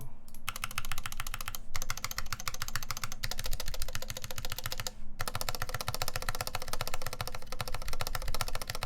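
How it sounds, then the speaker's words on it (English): Rapid typing on a custom QXP keyboard build with stabilized keys, fast dense clacking in steady bursts broken by brief pauses, close and clear without speech. "so I'm gonna go through the mods so you guys can see what the stabilized keys sound like"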